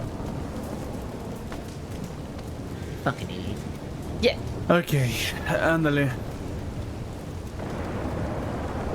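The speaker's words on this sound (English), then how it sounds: "Now there's a storm, which means no one will be able to hear me." Thunderstorm rain in the Western video game Red Dead Redemption, a steady wash of downpour running under the whole stretch while several voices talk over it, with a brief louder burst partway through.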